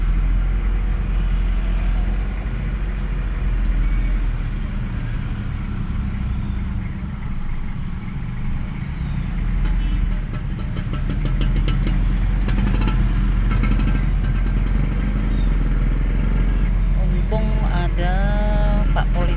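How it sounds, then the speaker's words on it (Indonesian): Traffic jam at a busy four-way intersection in Padang Sidempuan on a weekday morning, with a steady close wash of idling and creeping car and motorcycle engines, occasional revs and a horn-like tone near the end. "Di simpang 4 ini selalu terjadi macet."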